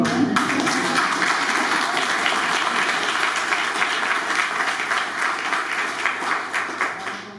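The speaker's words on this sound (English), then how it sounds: "That's an applause." An audience at a public speaking event breaks into sustained applause, a dense, loud wash of many hands clapping that holds steady throughout with no talking over it.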